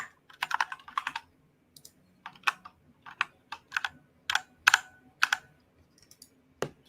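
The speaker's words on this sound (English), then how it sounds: "Why is my keyboard not working?" Key presses on a computer keyboard, struck in irregular bursts of quick clicks with short pauses between them, close and clear with no voices.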